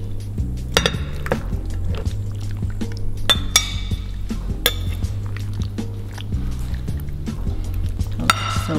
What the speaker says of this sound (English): I'm gonna pour it into our